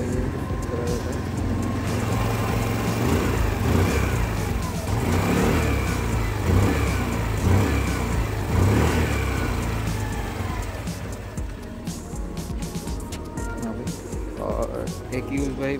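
A Hero Maestro Edge 125 BS6 scooter engine revs as the throttle is worked. The buzzy engine note swells and eases over several seconds, close and fairly loud, with some background noise.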